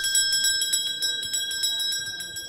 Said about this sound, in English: Hark the wedding bells!